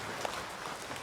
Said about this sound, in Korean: 영광의 박수를 함께 드리겠습니다.